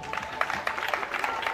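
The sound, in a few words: applause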